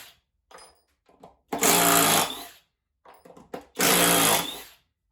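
A Flex impact driver in turbo mode fires two loud, sustained bursts of rapid hammering, each lasting about a second, with short pauses and faint handling noises between them.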